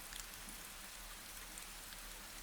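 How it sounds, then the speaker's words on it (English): Steady, soft rain falling over an old garden in the evening, an even hiss of drops without pause or voices. "The rain makes everything feel closer somehow."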